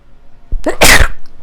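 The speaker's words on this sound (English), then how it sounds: "And then I sneezed." A single sharp sneeze, with a quick intake of breath just before the loud burst, close and sudden.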